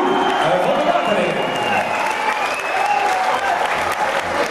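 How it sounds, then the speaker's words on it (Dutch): A crowd gives loud, sustained applause for the winner of a sports bout between two fighters. The clapping is dense and continuous, and an announcer's voice carries over it. "nog één keer een keihard applaus voor Jimmy van Oefenen en Jeroen van Paterpink"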